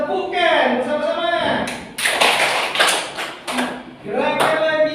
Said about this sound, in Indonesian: Tepukan bersama-sama.